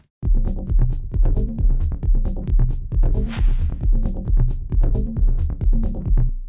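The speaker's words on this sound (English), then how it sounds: "pulled this random grain delay setting up before" A rhythmic synth loop with a steady pulsing beat, scattered with glitchy, stuttering grain-delay fragments and bright high blips, loud and continuous.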